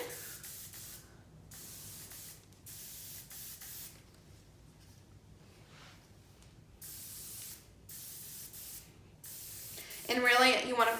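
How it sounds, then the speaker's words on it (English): Repeated short bursts of aerosol heat protectant sprayed onto hair, close and hissy, in quick spurts with brief pauses, ending with a louder rustle. "So I'm just gonna spray it in."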